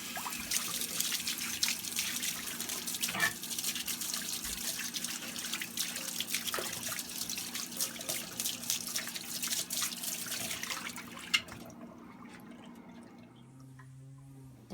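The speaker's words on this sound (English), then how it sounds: "And now a quick rinse with some hot water to get the simple green off." Hot water rinses Simple Green degreaser off an Atlas 73 drill press motor bracket, splashing steadily and close for about eleven seconds before the flow stops and a few faint drips and handling sounds remain.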